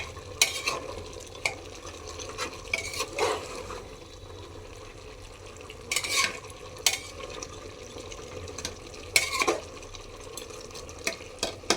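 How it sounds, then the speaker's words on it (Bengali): Meat browning in a pan with spices, stirred repeatedly with a utensil, producing irregular scraping clatters and a soft wet sizzle at close range over a steady background, no talking. "এই যে মাংস কষাচ্ছি"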